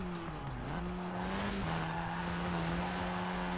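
Tires squeal and skid under hard braking in Forza Horizon 4 on a snowy track, a sustained screech over a loud, droning engine note that shifts pitch as the car slows.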